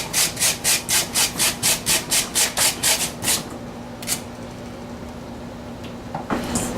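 A peeled potato is rubbed hard against a grater for latkes in a rapid, even series of about a dozen rasping strokes, then a few scattered scrapes and clatters follow, with no talking.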